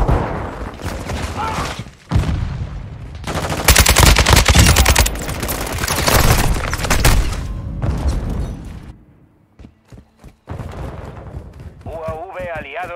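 Grenade detonation amid rapid machine-gun fire in the video game Call of Duty Modern Warfare II, loud dense bursts and a heavy blast, then quieter clicks and game radio chatter with voices over it.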